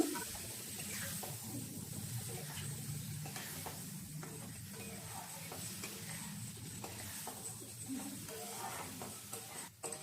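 Elephant foot yam sautés in a pan, a moderate, continuous sizzle with scraping stir strokes and utensil clatter close by, fairly quiet overall and without speech.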